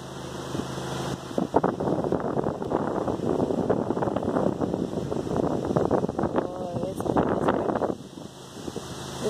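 Gusty wind buffeting the microphone with a rough, roaring rumble under a stormy sky, while a voice talks over it.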